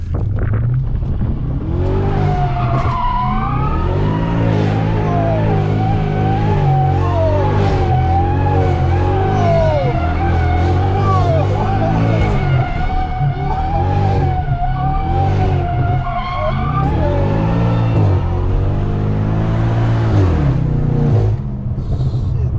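A Stage 2 upgraded turbo BMW M550 revs hard while drifting, its engine note rising and falling in repeated sweeps with squealing tires, loud and close from inside the car.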